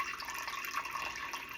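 Filtered room-temperature water pours into a container for sourdough, a brief, steady, soft splashing stream.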